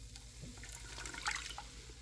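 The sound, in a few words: wet ingredients poured into Ankarsrum Assistant mixer bowl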